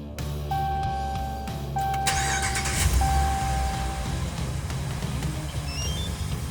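A car engine starts up by remote through a Compustar PRO T13 system: a few short confirmation beeps, then the engine catches and settles into a steady close idle rumble.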